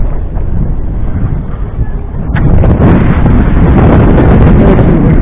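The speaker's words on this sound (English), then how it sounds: "I know it's windy" Strong wind buffets the microphone outdoors among rock formations in Old Shinyanga, a steady low roar that grows louder and rougher halfway through, with no voices.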